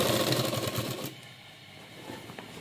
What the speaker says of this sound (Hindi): ये सिलाई करेंगे इसके अंदर से थोड़ा।